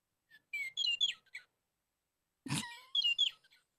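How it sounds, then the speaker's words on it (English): A small pet bird chirps and tweets indoors in two short clusters of bright, high calls separated by a brief pause, clear against near-silence. "Where is that bird coming from?"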